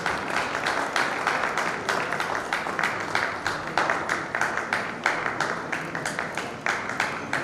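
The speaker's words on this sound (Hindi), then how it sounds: "सभी लोग तालियों से सम्मान करेंगे।" Audience at a judicial book launch ceremony clapping steadily in dense, continuous applause for about seven seconds, fairly loud and sustained with no voices over it.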